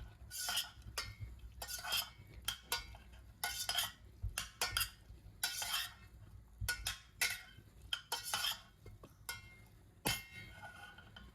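A spoon stirs and scrapes minced meat with pepper paste in a pan, with repeated irregular clinks and scraping bursts against the metal and quiet sizzling between strokes.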